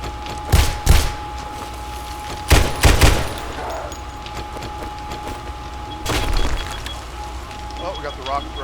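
Shotgun turrets in the survival game 7 Days to Die fire in three separate bursts of loud booming blasts, each burst a quick pair of shots, with quieter game noise running between them.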